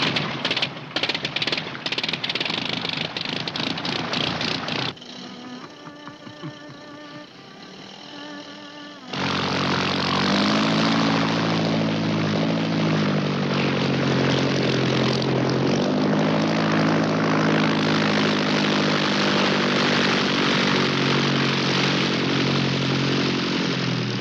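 A propeller airplane engine coughs, catches and roars to life, first sputtering unevenly, then settling into a loud, steady, buzzing drone close by.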